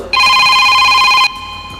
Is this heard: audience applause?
no